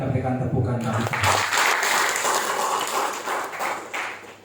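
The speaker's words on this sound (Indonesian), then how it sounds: "Mari kita berikan tepukan bagi Tuhan." Church congregation at a pre-Christmas service clapping together, a dense burst of applause rising after a voice, filling the room and tapering off.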